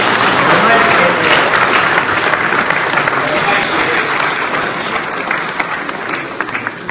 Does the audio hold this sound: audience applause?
yes